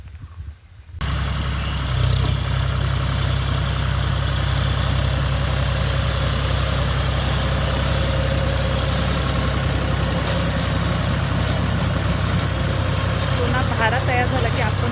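A tractor engine idles on a farm during grass cutting, a steady low rumbling drone that starts after a brief quiet moment and then holds evenly throughout.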